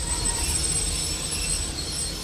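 A railway train brakes with an air brake, a steady loud rumble of wheels and rolling stock with high squealing tones running through the whole stretch.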